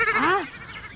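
A goat gives a single short, wavering bleat close by. The call is loud and nasal, then fades quickly into quiet.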